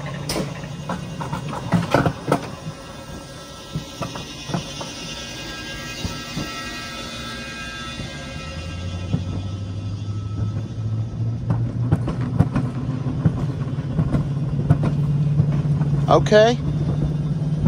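A mountain coaster car at Ripley's in Gatlinburg/Pigeon Forge rolls along its track with a low, growing rumble that swells and steadies, mixed with clicks and rattles. A rider speaks briefly over it.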